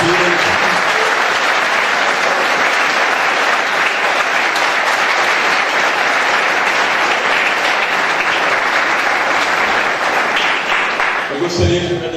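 A church congregation bursts into loud, sustained applause during a worship service, dense clapping filling the room for about eleven seconds before tapering off abruptly at the end.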